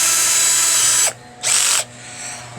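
A power drill boring holes into plastic worm compost bins, in two short bursts of high whining drilling with a brief pause between them, close and loud.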